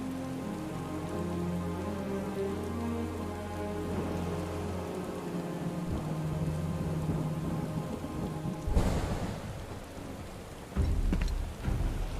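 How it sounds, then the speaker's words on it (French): Heavy rain pours steadily in Final Fantasy VII Rebirth, with loud cracks of thunder bursting in twice toward the end over the constant downpour. "Il pleut des cordes."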